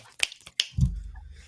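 Two or three sharp hand claps sound close by to trigger an LED uplight's sound-activated mode, followed by a short low thump.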